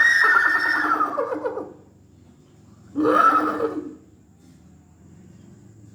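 A human voice imitates a running horse with two loud whinnying bursts, a long one followed after a pause by a shorter one, each fading into quiet.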